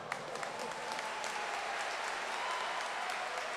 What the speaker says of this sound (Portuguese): Pode aplaudir, com força, com força.